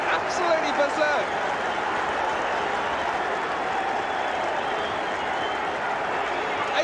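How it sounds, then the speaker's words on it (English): A football crowd roars after an equaliser levels a Brighton v Liverpool match at 3-3, a loud, sustained wall of cheering and applause that holds steady throughout. "the crowd going absolutely berserk"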